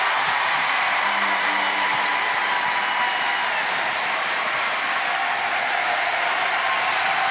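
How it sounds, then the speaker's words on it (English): A basketball arena crowd at a women's college game rises in a loud, sustained roar during a free throw, a broad steady wall of crowd noise with a brief voice near the start. "crowd getting loud as Thompson on the free throw line."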